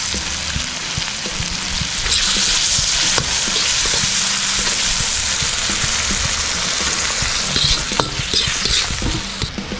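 Pork cubes with bay leaf and fish sauce sauté in a pan for sinigang, a loud, steady sizzle with occasional stirring scrapes running continuously, no voices.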